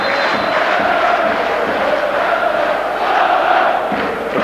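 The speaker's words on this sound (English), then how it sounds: "They'll applaud tonight till their hands are raw." Football crowd at Fulham's home ground roaring and applauding during a 2001 Premiership win over Sunderland, a dense, loud and sustained wash of cheering with no break.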